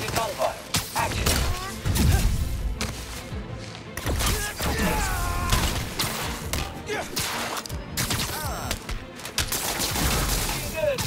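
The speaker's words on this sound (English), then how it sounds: "Simulated gunfire." Rapid bursts of simulated gunfire rattle through a combat training session in Spider-Man Miles Morales, with sharp shots, thuds and whooshing strikes piling up densely, and faint voices at times.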